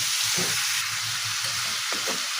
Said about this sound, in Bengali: এখন আলুটাকে আমি ভালো করে নাড়াচাড়া দিয়ে মশলার সাথে মিশিয়ে নেব, আমি একটু কষায় নেব।